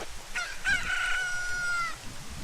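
A cucco chicken in Zelda Ocarina of Time crows once, a bright, sustained electronic cock-a-doodle-doo rising then holding steady, loud and clear over faint background game sound.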